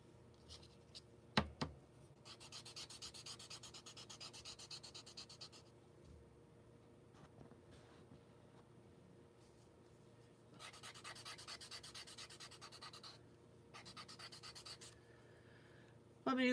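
Paper blending stump rubbed on sandpaper to clean off colored pencil pigment, rapid fine rasping strokes in long bursts with pauses between, close and fairly quiet, a sharp knock near the start.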